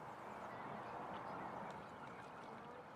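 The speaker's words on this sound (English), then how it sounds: "There's some northern pintails out here." Northern pintail ducks calling across a California wetland, faint, distant honking and quacking blended into a continuous outdoor hush.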